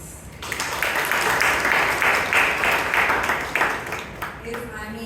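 Applause for the evaluators at a Toastmasters club meeting in Bangalore, a steady round of clapping from the audience lasting several seconds before it fades.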